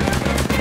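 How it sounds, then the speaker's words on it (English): Heavy machine gun firing in the Apex Legends video game, a dense, continuous burst of loud rapid shots filling the whole short moment. "Heavy machine gun."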